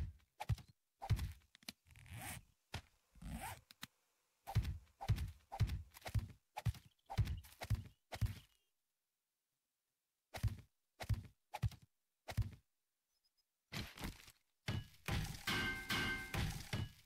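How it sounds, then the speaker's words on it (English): Rhythmic thuds of banging on wood or metal inside the 7 Days to Die video game, sharp repeated knocks in steady bursts separated by short pauses and one longer silence, loud and close with no talking. "I'm banging on wood or metal as I am right now, and that distorts the sound a bit"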